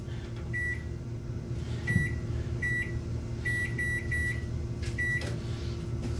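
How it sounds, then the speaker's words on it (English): A kitchen timer is being set, giving short, high electronic beeps in irregular groups as buttons are pressed, over a low, steady appliance hum. "I'm gonna turn a timer on for 30 minutes"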